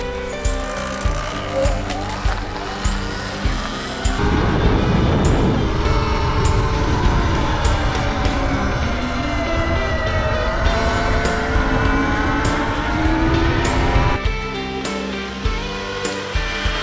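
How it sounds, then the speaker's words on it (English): A Sur-Ron X electric bike out on the road, giving a steady rising and falling electric motor whine with broad wind and road rush through the middle stretch, loud and close, with no talking. "let's get this bike on the road"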